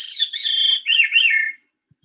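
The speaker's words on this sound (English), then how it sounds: "The thrushes are all just such a delight to hear." A thrush sings one clear, high fluting phrase of rising and falling whistled notes, close and loud, lasting about a second and a half before silence.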